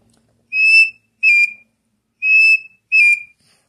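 Four sharp, high partridge-call whistles from a pio imitate a partridge in two pairs, each a short rising-then-falling note, clear and close against silence.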